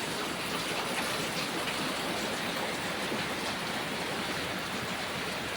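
Heavy rain falling at dawn: a steady, dense, unbroken wash of rain noise throughout, with no talk.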